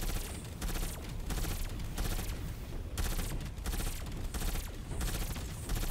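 Continuous dense gunfire in Cold War Zombies, with sniper rifle shots heard amid a steady barrage of rapid shooting and booms, loud and sustained with no talk over it.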